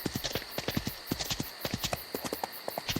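Horse hooves clip-clopping in a fantasy farm video game, a brisk steady rhythm of sharp close hoofbeats repeating evenly throughout without talking.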